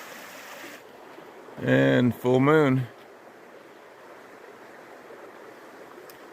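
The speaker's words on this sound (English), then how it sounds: "this is Little Beaver Dam here on the creek." Creek water streams steadily past a small beaver dam on a trail in the Maine wilderness, a soft constant rush heard throughout, with someone briefly speaking over it.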